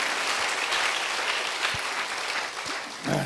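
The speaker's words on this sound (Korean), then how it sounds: "박수로 주님께 영광 나릅니다" A church congregation applauds in praise to God, steady dense clapping filling the room at an even level throughout, with a voice starting up near the end.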